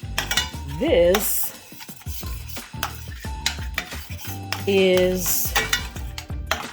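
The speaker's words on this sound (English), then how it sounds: "you want to stir your hummus and your nut milk until it looks like a roux" Hummus and nut milk are stirred into a vegan cheese sauce in a pan, with repeated scraping and clinking of a utensil against cookware over a faint sizzle, and a voice speaks briefly.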